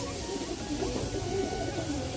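A large male pigeon coos close by in a steady, continuous run of low, throaty murmurs at moderate loudness, with no clear talking over it.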